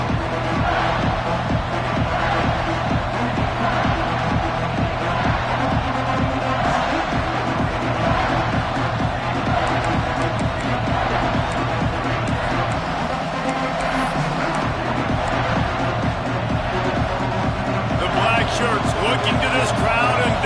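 A stadium crowd roars continuously during a Rice college football game on a big third down, a dense, loud wall of cheering beneath a commentator's voice.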